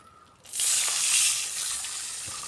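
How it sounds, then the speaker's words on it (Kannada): Half a glass of water poured into a pot holding jaggery, a sudden rushing hiss that starts after a short quiet moment and continues steadily to the end. "ನೀರನ್ನು ಹಾಕೋಣ"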